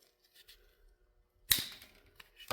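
A single loud snip as the supplied cutting tool is squeezed shut through air spring tubing on a RAM 2500, a sharp crunchy cut after a quiet lead-in, with a brief clack at the very end.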